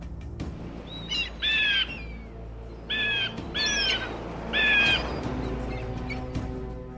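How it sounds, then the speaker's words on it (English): Gulls over the open sea call in several short, harsh squawking bursts, clustered in three or four groups against a low background rush of wind and water. "The sky was full of gulls."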